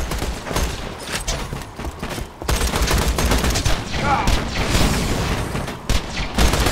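Dense bursts of video game gunfire in Borderlands 2, rapid volleys and booms filling the clip at close, loud level, with brief pauses between fusillades.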